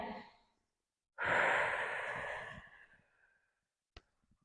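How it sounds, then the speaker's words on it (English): A slow, deep breath during a full-body stretching session: a long, airy exhale swells up and fades over about two seconds in a quiet room, followed by a brief soft click. "Nice deep breath."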